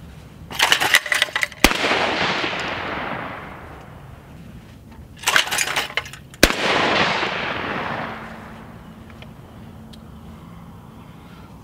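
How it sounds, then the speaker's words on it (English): Two loud blasts from a Browning Silver Composite shotgun fired outdoors a few seconds apart, each preceded by a burst of rattling and followed by a long rolling echo that fades slowly. "Let's shoot this gun and see how it shoots."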